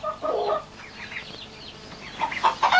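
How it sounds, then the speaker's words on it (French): Young laying hen clucking near her eggs; agitated clucks in short bursts at the start and end with quieter rustling between, close and clear with no talk. "Cette poulette imprudente a pondu à l'écart."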